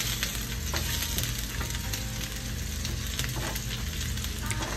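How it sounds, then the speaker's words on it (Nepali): Onion and green chilli fry in a hot pan for momo achar, a dense, continuous sizzle with occasional scraping strokes as the pieces are stirred, close and fairly loud with no voices. "त्यो प्याज र खुर्सानीलाई चाहिँ अब राम्रोसँग चलाएर फ्राई गर्नुपर्छ रातो हुन्जेलसम्म"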